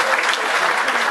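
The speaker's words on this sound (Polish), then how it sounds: "Szanowni Państwo, życzę wielkie brawa." Loud, dense audience applause at a concert honouring a composer and arranger, many hands clapping close and steady without a break.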